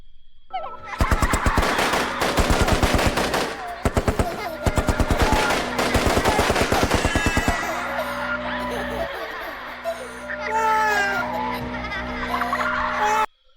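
Rapid bursts of gunfire crack out in a rap track, sharp repeated volleys like machine-gun fire over the music, giving way to laughing children and layered background sounds.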